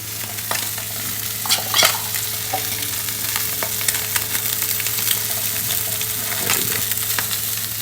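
Snapper fillet spiced with chaat masala frying in a pan, a continuous close sizzle with scattered crackles, pops and light scraping, no voices.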